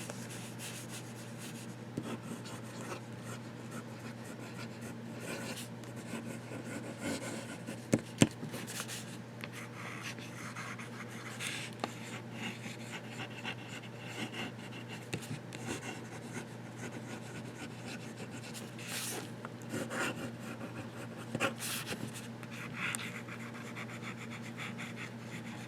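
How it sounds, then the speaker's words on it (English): Esterbrook Esty fountain pen with a broad nib writing on Ayush paper, a faint continuous scratching and rubbing of the nib across the sheet, with small taps and pauses. "I'm using the Esterbrook Esty with a broad nib"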